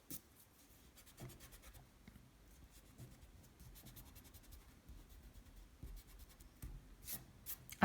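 A coloring tool scratches and rubs across paper while filling in a perspective sketch, soft and close, in irregular strokes with brief pauses.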